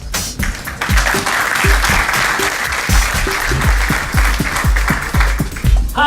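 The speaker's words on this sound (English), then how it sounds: "Please give him a warm round of applause." An audience applauds a speaker, the chairman and co-founder of Hyperloop Transportation Technologies, with steady, dense clapping that fills the room and carries on alone, some sharper nearby claps standing out against the broad wash.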